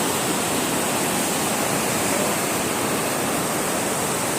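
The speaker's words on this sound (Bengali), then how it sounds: "প্রচুর পরিমাণ পানি, প্রচুর পরিমাণ।" A large volume of floodwater flows and rushes in a steady, loud, continuous roar, close and unbroken, with no voices.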